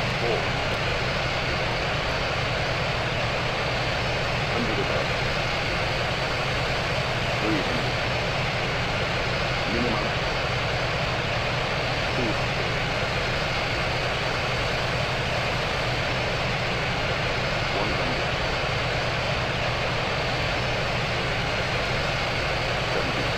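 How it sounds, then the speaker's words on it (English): Airliner landing at Mumbai's Chhatrapati Shivaji Maharaj International Airport in a 25-knot crosswind, a steady loud engine roar and rushing wind noise, unbroken and close throughout. "landing at Chhatrapati Shivaji Maharaj International Airport with 25 knots of crosswind"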